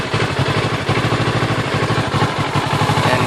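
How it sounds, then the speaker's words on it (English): 2014 Kawasaki Ninja 650 motorcycle engine idling unevenly, a close, loud, pulsing putter whose rhythm stutters and skips at moments over a few seconds, with no talk. "you can hear the engine just not stay constant at all"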